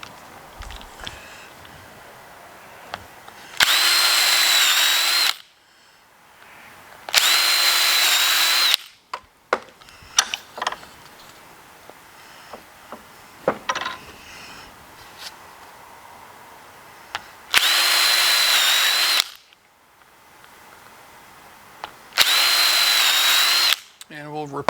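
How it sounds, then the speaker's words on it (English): A power drill whirs in four steady bursts of a few seconds each, drilling pilot holes for mounting screws in a CNC machine table, separated by quieter handling clatter and knocks. "now we are going to go ahead and drill pilot holes"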